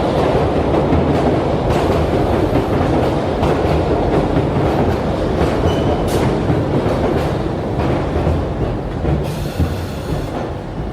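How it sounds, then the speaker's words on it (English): A London Underground train with DC motors accelerates: a loud, continuous rumble with rhythmic clattering of wheels on rails and occasional higher squeals, close and sustained throughout. "like the clicking sounds of the contactors of the DC motors as the trains accelerated"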